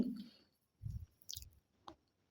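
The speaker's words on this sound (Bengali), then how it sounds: "তো আমি 5 মিনিট পর ঢাকনা তুলে আমি আবার একটু নেড়ে দিচ্ছি মাংসটাকে" Chicken meat is stirred in a pan, giving a few separate soft, wet squishing scrapes with quiet pauses between them, close and faint.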